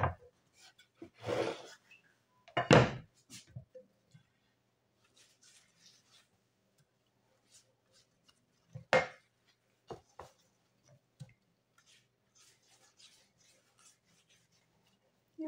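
A brush spreads butter over Tatar kystybyi flatbread with potato filling made from choux-style dough, producing quiet, scattered soft strokes and dabs with a few louder brushy rubs, separated by near silence.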